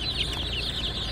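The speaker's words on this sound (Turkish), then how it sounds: "Bunlar haybora civcivi." Week-old hybrid broiler chicks at a poultry market in Ankara, a continuous high peeping chorus from many birds close by, steady and without pause.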